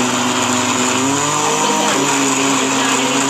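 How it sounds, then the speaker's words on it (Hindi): A juicer grinder blends fried ingredients with cream into a paste for chicken handi gravy, a loud steady motor whine with a strong hum running throughout, turning slightly lower in pitch midway. "अब हम इसको जूसर में डाल के इसको ग्राइंड कर लेंगे और इसकी बनाएंगे ग्रेवी"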